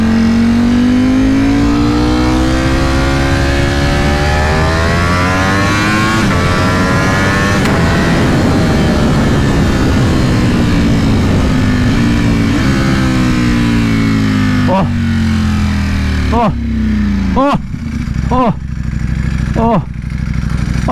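A 2020 Ducati Panigale V4R with an Akrapovic race exhaust rides hard, its engine note rising and falling steadily through the gears, loud and close, with sharp shifts and crackles toward the end and a rider talking over it.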